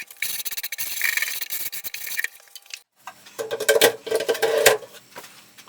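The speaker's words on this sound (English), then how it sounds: "Using some sandpaper, I then take off all the edges to make sure that they're not sharp" Sandpaper scratching along the edges of a wooden bandsaw station frame, close and fairly loud, in two rough rasping passes split by a brief pause.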